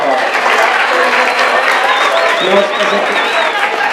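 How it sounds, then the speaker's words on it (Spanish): Lecture audience applauding after a correct quiz answer in a talk on the physics, biology and art of colour, steady dense clapping filling the room for about four seconds, with voices mixed in under it. "Muy bien, aplauso."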